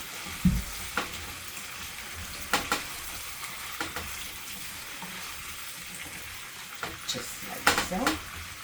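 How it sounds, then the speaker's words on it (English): Scalloped potatoes and kielbasa sausage are stirred in a frying pan, with scattered scraping strokes and soft clatters over a gentle, continuous sizzle. "Let's give this a little stir."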